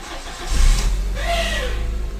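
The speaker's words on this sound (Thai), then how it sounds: "ตอนนี้รถสตาร์ทติดเรียบร้อยแล้วครับ" A Volkswagen Beetle engine cranks and catches with a freshly programmed key, a brief starter whir followed by a loud close rev that settles into a steady idle.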